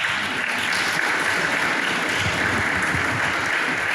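Sustained, dense applause from a crowd at a press conference in Abidjan, loud and even throughout with no pauses.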